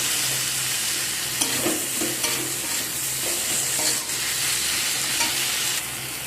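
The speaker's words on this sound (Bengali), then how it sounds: "টমেটোটাকে দিয়ে আবারও ভালো করে একসাথে সব কিছুকে কষিয়ে নেব।" Tomatoes with a little salt are stir-fried into a jackfruit curry base in a pan, a steady sizzle with spatula scrapes and stirring taps recurring throughout, no talking.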